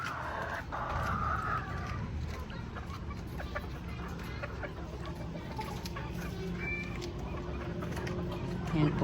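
Backyard chickens, including hens, clucking around a coop at close range, with a steady low murmur of background noise beneath the scattered calls.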